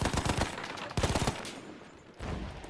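Battlefield 1 gunfire: rapid bursts of machine-gun fire in several loud volleys, with short gaps and a trailing rumble between them, no talk.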